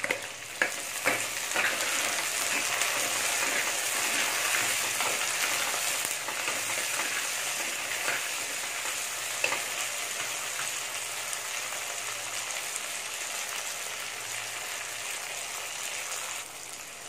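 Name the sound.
onions and tomatoes sautéing in a pan for sardine curry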